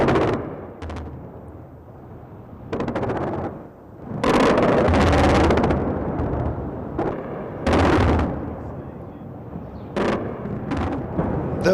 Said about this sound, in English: In the city centre, the Iraqi gunners were blazing away.